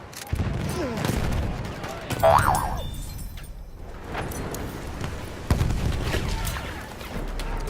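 A grenade blast in the shooter Battlefield 1 kills three players amid chaotic battle noise. Heavy booms and bursts of gunfire rise and fall over a rumbling background, with a couple of louder explosive peaks.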